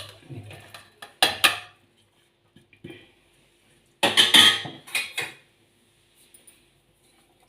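Ingredients for brinjal chutney, such as tamarind, coriander, tomato and salt, tipped into a mixer jar, heard as a few scattered metallic clinks and clatters with quiet gaps between them.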